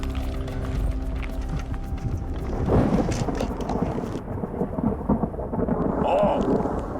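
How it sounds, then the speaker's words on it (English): Thunder rolls over the Australian outback after long drought, a deep rumbling build that peaks loudly and fades, with rain pattering around it and a voice speaking briefly. "Thunder, sounding good."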